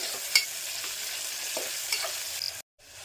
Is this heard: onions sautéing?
yes